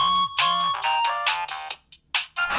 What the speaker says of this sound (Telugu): అడే ఫోన్ చేస్తాడు.